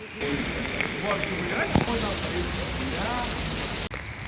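Rain falls steadily on the streets of Tashkent late at night, a broad continuous hiss with faint spatters and a few distant background sounds, while someone may be talking faintly under it.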